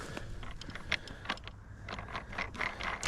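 A ride-on scooter's handlebar latch is fastened and clicks shut with a few sharp mechanical snaps, close and fairly quiet over a low steady background hum.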